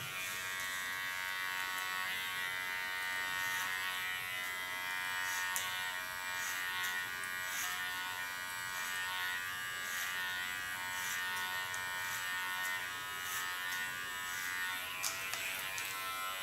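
An electric hair clipper cuts hair with a continuous close, high-pitched buzz that stays fairly steady throughout.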